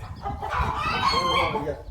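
Chickens clucking and murmuring close by, a steady busy flock chatter filling the whole stretch with no pauses.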